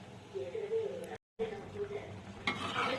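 Chicken gravy bubbling on the stove, made with coconut, gives a steady close sizzle and simmer with faint utensil clinks, and a voice talks over it throughout.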